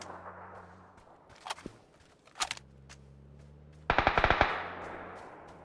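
Gunfire in a video game: a short burst around the middle, then a rapid, loud volley of about half a dozen shots near the end, over a low steady hum.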